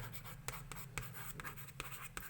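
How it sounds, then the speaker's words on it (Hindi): Someone writes a math term by hand, making a quick run of short scratchy pen strokes with sharp little taps, close and fairly quiet. "यहाँ पे मैं लिखती हूँ एडिटिव इन्वर्स।"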